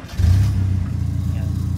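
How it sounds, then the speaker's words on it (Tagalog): Owner-type jeep engine cranking to life and revving, a loud low rumble that surges in the first half-second then settles into a steady, throbbing idle close by. "Bali ito po pala yung tunog ng makina niya mga boss."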